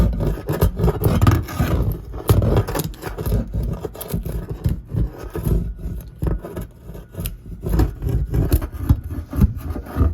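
A screwdriver scrapes coating off bare metal on a 1968 Volkswagen Beetle, with close, rapid rasping strokes in an uneven rhythm and short pauses between passes.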